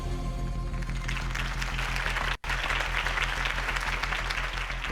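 Steady crowd applause at a Harvey Dent campaign rally in the Batman Telltale Series video game, dense and sustained, with a brief cut of silence midway before the clapping resumes at the same level.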